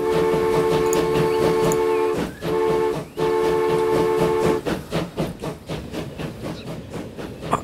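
Train pulling out of a station in Transport Fever 2 with UK mods: a loud sustained whistle or horn tone with rumbling wagons, briefly cut twice, then giving way to rhythmic clattering of cars rolling over the rails.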